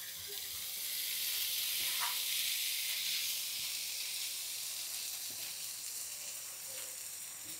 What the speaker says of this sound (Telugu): పన్నీర్ ముక్కలండి, పసుపు, కారం, కొంచెం జీలకర్ర పొడి, ఉప్పు వేసి కొంచెం ఇలా పెట్టేసి ఇలాగ నెయ్యిలో వేపుతున్నాను